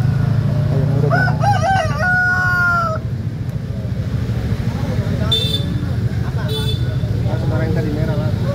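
Roosters crow at a chicken market in Makassar selling local Bangkok and Pama fowl. One drawn-out cock-a-doodle-doo rings out early, with fainter crows later, over a busy ambience of voices and clucking.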